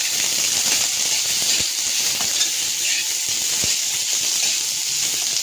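Onion and capsicum stir-fry in a hot pan for paneer chilli, giving a steady, loud hissing sizzle throughout, with a few soft scraping knocks.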